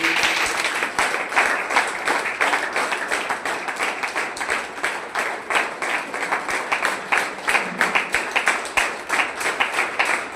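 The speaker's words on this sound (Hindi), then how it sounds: "एक बार इनके लिए जोरदार तालियां बजाएंगे" A seminar audience claps loudly and in a strong rhythm after a team member is introduced, the crowd's applause pulsing at a steady beat that swells in waves, with a little voice mixed in.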